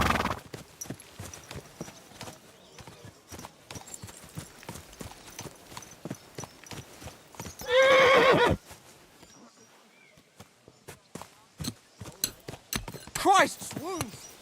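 Horse hooves clip-clop and a horse whinnies loudly in the medieval game Kingdom Come: Deliverance II, with a short burst of neighing standing out amid game dialogue and ambient sounds.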